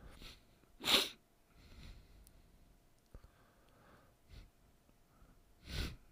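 A single sharp sneeze bursts out close to the microphone, followed by softer sniffs and breaths, then a second sneeze-like exhalation near the end, all alone without talk.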